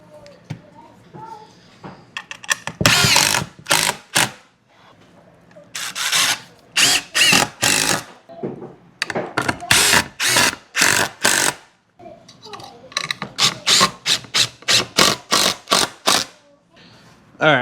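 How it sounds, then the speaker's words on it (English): Power drill driving screws into 2x4 shelf supports for tote storage shelving in a barn, heard as a series of loud, close whirring bursts of a second or so each, separated by brief pauses, with some speech early on. "I'm gonna start screwing them in."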